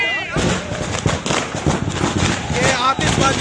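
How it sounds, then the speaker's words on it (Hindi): Rapid crackling fireworks pop and burst amid a loud, noisy crowd celebrating an election victory in Rudrapur, with voices shouting over the explosions. "ये आतिशबाजी, आतिशबाजी।"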